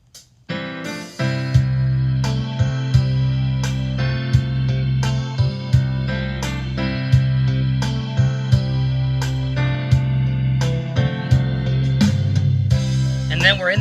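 Yamaha DGX 660 digital piano auto-accompaniment playing a rhythm intro: steady repeating bass pattern with regular percussive hits and layered chords, loud and continuous for about fourteen seconds, with no talking.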